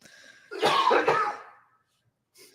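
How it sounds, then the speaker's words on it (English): A single close, harsh cough in two quick bursts, followed by a brief silence. "I got a cough,"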